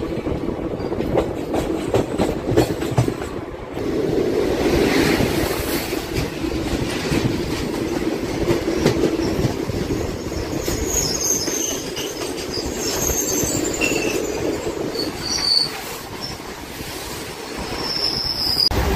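The 12787 Nagarsol superfast express runs along the rails with a steady rumble and rhythmic clatter of wheels over joints, heard from inside the moving train, with occasional squeals and metallic rattles throughout.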